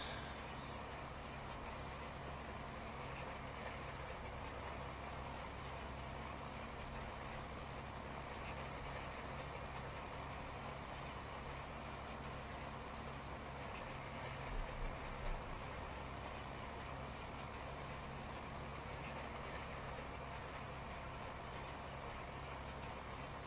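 A tractor engine in Farming Simulator 25 idles with a low, steady, muffled drone, faint and continuous for over twenty seconds with no talk.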